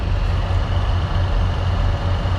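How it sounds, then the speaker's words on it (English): Loud, steady rumble of idling and passing trucks at a truck stop, deep engine drone with constant low throb and roadway noise, close and continuous. "Yep, we are really at a truck stop."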